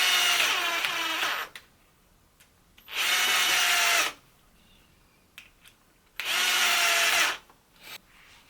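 Power driver set to its lowest torque screwing parts of a Tamiya Dynahead 6x6 model kit, three loud whirring bursts of about a second each separated by quiet pauses with small clicks.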